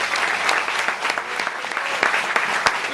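A church congregation clapping, dense and fairly loud, with scattered sharper claps standing out throughout.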